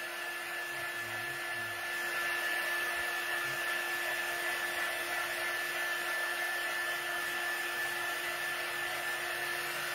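A hair dryer runs steadily and fairly loud for the whole stretch, blowing on wet paint on a large gourd being decorated as a jack-o'-lantern, with a constant whine and no pauses.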